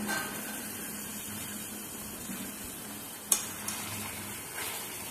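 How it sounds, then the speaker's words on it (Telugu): Two medium tomatoes, chopped, drop into a frying pan and get stirred, giving a soft, steady sizzle with a single sharp utensil clink partway through and a fainter scrape after. "కట్ చేసి పెట్టుకున్న టమాటా ముక్కలను వేస్తున్నాను."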